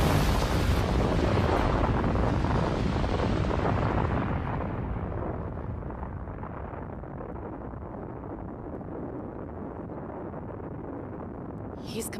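A huge anime explosion of heaven's flame destroys a castle, a loud roaring blast that rumbles on continuously and slowly fades to a lower sustained rumble.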